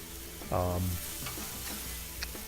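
Boneless pork chops sizzle on a very hot grill in a steady, faint hiss with a brief louder flare near the start.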